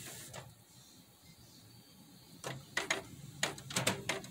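A Canon EcoTank printer set up for sublimation printing starts up with a quiet whir, then a run of sharp mechanical clicks and clatters that grow louder and quicken toward the end, close by with no talk.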